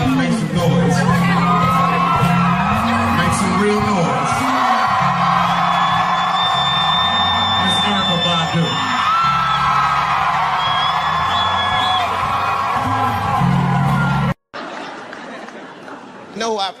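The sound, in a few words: crowd cheering and whooping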